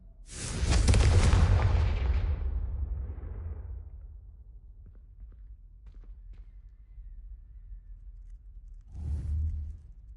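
A Confringo fire spell in Hogwarts Legacy erupts in a loud, deep explosive boom that swells and rumbles away over a few seconds, followed by a low lingering hum and a second, smaller thud near the end.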